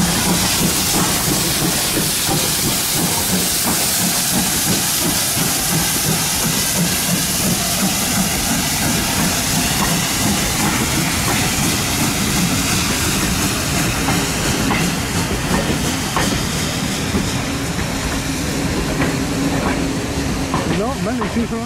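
A heritage railway train at Blue Anchor on the West Somerset Railway rumbles and hisses steadily, with rhythmic clatter of wheels on track and voices talking over the continuous noise.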